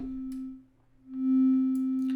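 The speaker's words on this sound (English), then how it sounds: "it's kind of pseudo sine wave, an EMS sine wave" A steady pseudo sine wave tone from the EMS oscillator in Arturia's Synthi V software synth, held for about two seconds with a brief dip in level partway through, clean and alone.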